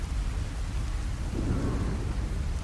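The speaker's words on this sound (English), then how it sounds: "It's the next morning, and of course it's raining." Steady rain falls with a dense, continuous hiss in the Fallout 4 game world, carrying a low rumble of thunder beneath it and no voices.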